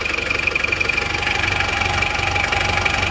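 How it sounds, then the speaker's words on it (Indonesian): A rebuilt engine fitted with NPR cylinder liners and piston rings runs warm at idle, a steady close, loud mechanical knocking and clatter with an even rhythm throughout, no voices. "Nah, ini teman-teman, mesinnya sudah hidup"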